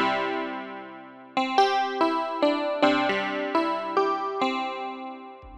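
Clavinova-style piano tone from a Roland RD-88 keyboard: a held chord decaying, then a steady run of repeated struck chords with bright attacks, close and without voices.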